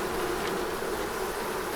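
Bees buzzing steadily and close in the Yucatán bush, a dense continuous drone with no voices over it.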